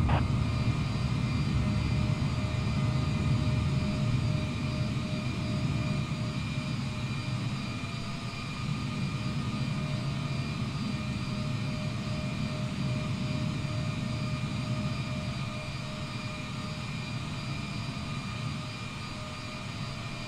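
Boeing 787 jet engines hold a steady, loud roar with a sustained whine layered over it during takeoff in Microsoft Flight Simulator 2020, continuous through the whole stretch with no talking.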